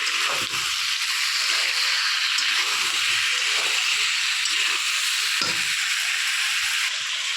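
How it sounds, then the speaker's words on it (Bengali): Warm water poured into a hot pan of chicken masala with potatoes sets off a strong, continuous hiss and sizzle up close, broken by a few soft spoon knocks, with no one talking. "একটু উষ্ণ গরম জল দিয়ে নিয়েছি যাতে নিচে মশলাগুলো ধরে না যায়।"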